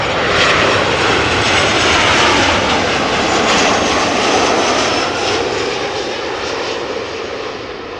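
Boeing 747 engines at Amsterdam Schiphol as the jet approaches the runway: a loud, constant broadband roar that fades slightly toward the end, with no voices.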